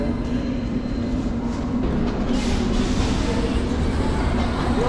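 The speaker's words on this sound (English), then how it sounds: "get a shot of life on the station platform as the train's pulling out" A London Underground train pulls out of an old station, a steady low rumble and broadband hiss that swells gradually and fills the platform, with faint voices underneath.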